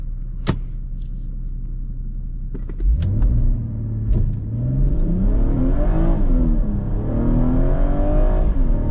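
A 400 hp BMW 440i launches under launch control: after a quiet idle with a few clicks, the engine surges loud and close, climbing steadily in pitch, dipping briefly at a gear change, then pulling hard again.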